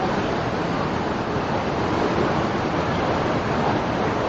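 Floodwater rushing hard past the Gandak barrage in Bihar, a steady, loud, unbroken roar of churning water that holds level throughout with no voices.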